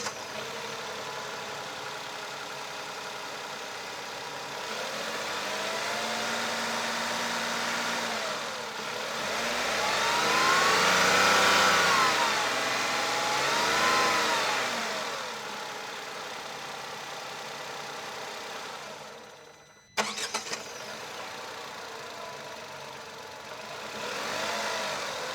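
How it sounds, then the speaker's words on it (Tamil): A 2025 Tata Punch Adventure + S engine idles steadily, rises into a smooth rev that swells and falls back, then settles to idle again after a brief interruption, heard close and alone. "இந்த இன்ஜினோட ரிஃபைன்மெண்ட் லெவல்ஸ் எப்படி இருக்குன்றது இப்போ பார்த்துடலாம்."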